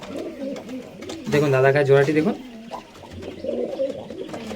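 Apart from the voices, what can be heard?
pigeons cooing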